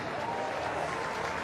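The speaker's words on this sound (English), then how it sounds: "A warm applause." Steady, distant applause rolls from a stadium crowd at a one-day international cricket match between Pakistan and New Zealand, continuous and even throughout.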